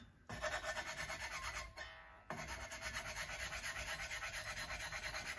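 Sandpaper rubs back and forth over the body of a Squier Bullet Mustang guitar, making a close, rhythmic scratchy rasp with a brief pause partway through, with no talk.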